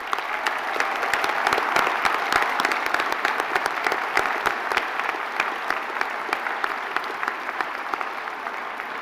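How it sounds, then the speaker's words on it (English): A commencement audience at the Merrill College of Journalism Spring 2022 ceremony gives a sustained round of applause, many hands clapping densely and evenly in a large hall for the full stretch. "Please join me in a round of applause for the founding and first dean"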